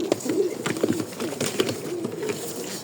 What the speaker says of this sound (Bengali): কবুতরগুলো দেখেন